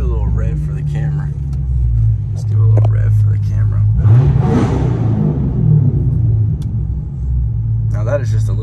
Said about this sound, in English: Let's give it a little rev for the camera.